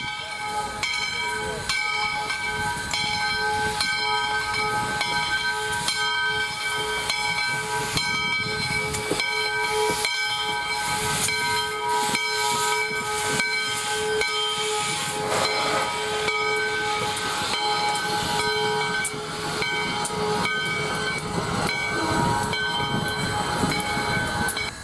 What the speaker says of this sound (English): USSC number 148 appears front and center to lead today's train up to Port Mayaca.